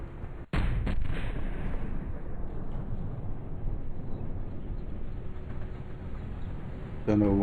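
A tank gun fires in War Thunder with one sharp, heavy boom that leaves a long rumbling tail of battle noise. People talk over it.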